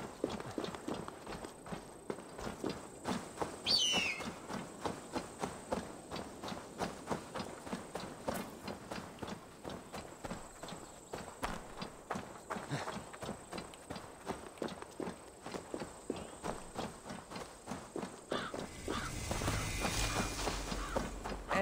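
A horse's hooves pound steadily in a fast, regular gallop through Assassin's Creed Valhalla, continuous and close across the whole stretch, with a brief metallic rattle early on and a rise in wind and ambience near the end.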